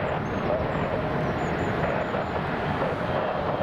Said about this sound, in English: here comes that King Air